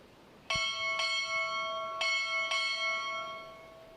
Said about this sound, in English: Strike 4 bells!